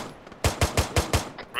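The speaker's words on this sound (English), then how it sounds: "That's suppressing fire." Machine gun suppressing fire in the military video game ArmA 3: a quick burst of five sharp, evenly spaced shots, loud and close, after a short quiet lead-in.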